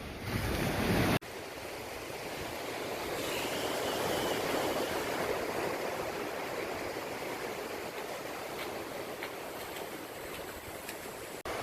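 Ocean waves roll and break on a beach shoreline during surf fishing, a steady loud wash of surf with some wind noise, continuous with no talking.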